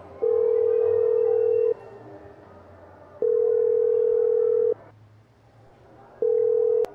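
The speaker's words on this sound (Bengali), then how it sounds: "তাই ও ঠিক করে নিল ও একমাত্র রূপমকেই ফোন করবে।" A telephone call being placed: three long, steady ringing-tone bursts about a second and a half each, with quiet pauses between them, clear and close with no talking over them.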